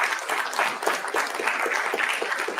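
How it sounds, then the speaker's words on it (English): Applause from the audience at a news conference on a K-12 transparency website, a steady moderately loud patter of many hands clapping together, with no voices heard. "give him a round of applause, for heaven's sakes."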